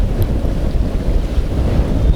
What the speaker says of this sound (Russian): потому что ветер не стихает